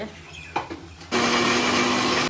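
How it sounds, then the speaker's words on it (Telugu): A few soft knocks, then a kitchen mixer grinder whirs on abruptly, grinding ginger and garlic, running loud and steady with a high motor whine. "అల్లము వెల్లుల్లి అయితే మిక్సీలో పెట్టేసాము. ఈ రెండు అయితే గ్రైండ్ చేసుకుంటాం"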